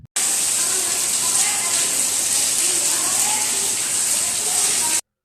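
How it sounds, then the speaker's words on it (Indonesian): Rainwater pours into a rooftop boarding room, a dense, even hiss of falling water that holds steady and loud throughout, then cuts off abruptly. "Jadi masuk hujan nih kayak gini nih"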